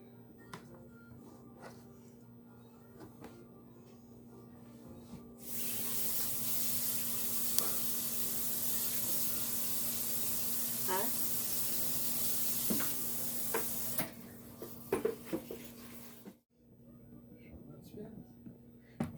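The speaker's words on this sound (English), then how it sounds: "I'm going to put this lettuce in here and give it a good cold rinse" Cold tap water runs into a kitchen sink as lettuce is rinsed, a steady close hiss that starts suddenly and stops after about nine seconds, with soft handling clatter around it and a voice talking before and after.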